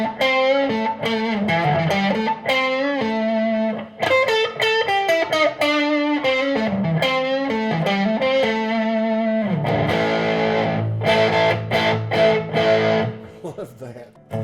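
An electric guitar is played through a Behringer TO800 or OD300 distortion overdrive pedal, with loud sustained, buzzing overdriven notes and chords in shifting phrases, close and continuous, with no one speaking.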